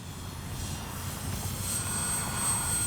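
An RC X-Fly Spitfire warbird model plane makes a low, slow pass, its engine droning steadily and swelling slightly as it flies by at moderate distance, with no talk.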